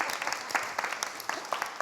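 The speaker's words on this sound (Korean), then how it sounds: "박수 한번 줘야 돼." Brief applause from a small audience at a career-themed event: a scattered patter of individual claps, fairly quiet and close.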